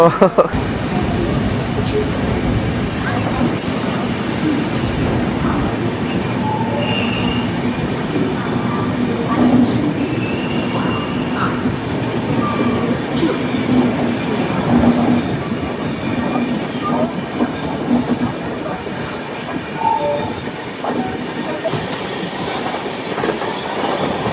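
Jamnagar–Tirunelveli Express running, heard from inside a 2AC coach: a steady low rumble with faint wheel clatter continuing throughout, with occasional voices in the background.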